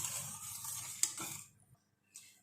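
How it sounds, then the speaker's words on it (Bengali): Salted mixture being stirred in a pan for oats roti, a soft scraping and clinking of a utensil against the pan for just over a second with a small knock, then quiet. "একটু নেড়ে দিলাম।"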